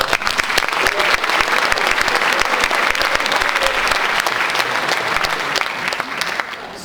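Sustained, dense applause from an evening audience at a public talk on the media war against Israel, a steady wash of many hands clapping close and loud throughout with no pauses.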